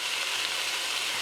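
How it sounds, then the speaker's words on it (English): Lime juice hits a hot pan and hisses in a bright, steady sizzle, close and unbroken for a brief moment. "Always makes a very satisfying sizzle when I put the lime juice in."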